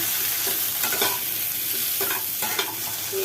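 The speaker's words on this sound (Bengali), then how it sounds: "আলু আর বেগুনটা হালকা ভাজা হয়ে গেছে, হালকা হালকা ভাজা মতন হয়ে গেছে।" Potato and eggplant pieces fry lightly in oil in a pan, a loud, close, continuous sizzle with repeated stirring scrapes rising through it.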